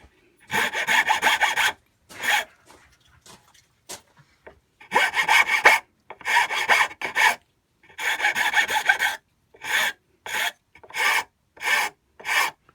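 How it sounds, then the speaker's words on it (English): Wood being smoothed with a hand file, heard as loud, close rasping strokes in bursts, some long and sustained and others short and rhythmic, separated by brief pauses, with no talking. "And then we could use the file."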